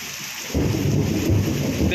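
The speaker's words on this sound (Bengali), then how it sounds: "প্রচণ্ড কিন্তু মেঘের গর্জন শুরু হলো এই" Thunder rumbles in over a steady downpour during a morning storm in Berhampore, a deep roll building suddenly after a quieter patch of rain and holding loud to the end.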